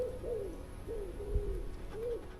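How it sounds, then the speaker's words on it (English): Birds calling in woods at night: soft, repeated hooting or cooing calls that come three times at a slow, uneven pace over a low background rumble. "Just birds, mate, just birds."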